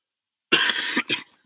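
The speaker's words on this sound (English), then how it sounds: "as I die from coughing again" A single harsh, raspy cough close to the mic, ending in a short second hack, with silence before it.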